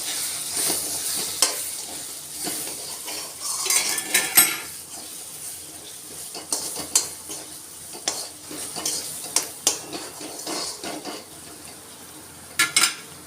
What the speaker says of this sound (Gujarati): હવે આ બધાને આપણે હલાવશું